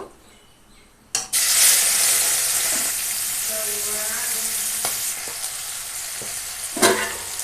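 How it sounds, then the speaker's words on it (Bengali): Prawns dropped into hot oil already used for frying fish: after a quiet start, a sudden loud burst of sizzling that settles into steady close crackling, with occasional utensil knocks. "এই যে সেই মাছ ভাজা তেলে আবার চিংড়ি মাছগুলো ভেজে নেব"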